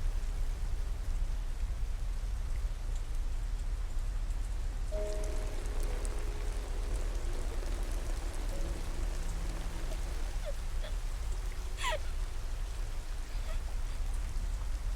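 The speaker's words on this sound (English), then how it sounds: "I knew it was gonna be in the rain." Steady rain falls throughout a tearful anime film scene, a constant hiss with faint melodic tones and soft clinks emerging midway, no speech.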